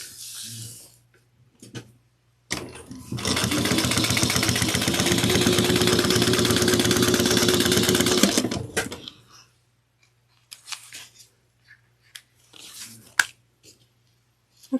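Top stitching on a drawstring satchel with a sewing machine: one loud sustained burst of fast motor whirring lasting several seconds, close up, framed by quiet handling noises and a soft low hum.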